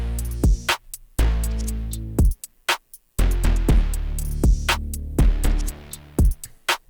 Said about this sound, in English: It's a drum loop and 3 basses kind of layered to make something cool